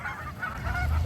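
Geese honk in a quick run of loud, close calls, several overlapping honks packed into about a second with little else in the background.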